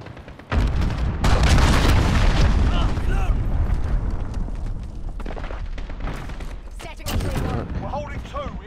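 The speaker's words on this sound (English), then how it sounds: "Allied cruise missile away." An allied cruise missile strike in Call of Duty: Modern Warfare multiplayer lands as a sudden heavy boom and sustained rumbling blast, with scattered gunfire and crackling debris continuing afterward and a second burst near the end.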